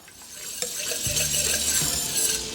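Whisk scraping through flour and melted butter in a pan for a roux, soft quick rustling strokes with a faint sizzle, close and alone without speech.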